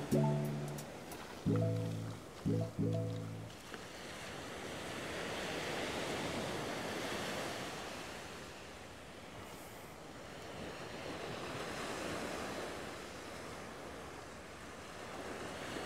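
Surf rolls steadily onto the sand at Playa del Carmen in the days after Tropical Cyclone Alberto, a continuous broad wash of breaking waves with light wind noise and a few brief tones at the very start.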